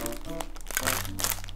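A crinkly Japanese snack package is torn open, giving a brief burst of close, rustling crinkles and crackles.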